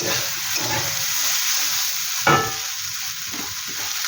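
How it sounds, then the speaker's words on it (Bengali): Drumstick flowers frying in a pan for a Bengali kachki fish dish, a loud steady crackling sizzle up close with one sharp scrape of the spatula partway through. "বন্ধুরা ধরো সজনা ফুলটা বেশ সুন্দর কিন্তু ভাজা ভাজা হয়ে গেছে।"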